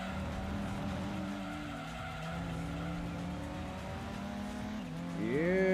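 Skidding tires and racing engine from a Honda NSX losing control in the Gran Turismo 2 video game, a steady sustained screech and engine drone that rises sharply in the final second.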